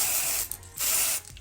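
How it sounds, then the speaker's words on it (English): Spray bottle pumped onto the lace front of a Brazilian straight lace front wig, giving two close, short hissing bursts separated by a brief pause, with a faint click at the end and no talk. "When you spray your lace"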